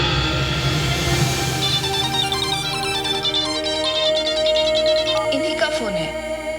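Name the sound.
phone ringing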